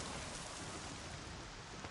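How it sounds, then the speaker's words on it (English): Steady rainfall in the video game Horizon Zero Dawn, a dense, even hiss of drops at a constant level with no voices or other sounds over it. "More rain. My boots will get damp."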